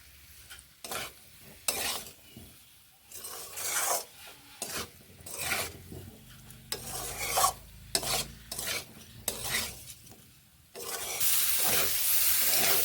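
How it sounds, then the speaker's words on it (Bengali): Fried winter vegetables are stirred and tossed together in a pan, giving close, irregular scraping and rasping strokes with short pauses, and a steady sizzle that swells toward the end. "বেশ ভালো করে সব মিশিয়ে এইভাবে নেড়ে মিশিয়ে নিচ্ছি"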